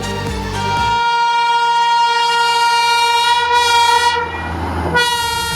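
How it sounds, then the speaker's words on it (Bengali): The Kanchankanya Express rushes past close by at an open railway level crossing, its loud horn blaring continuously over the roar of the wheels. "ঝড়ের গতিতে ছুটে আসছে কাঞ্চনকন্যা এক্সপ্রেস"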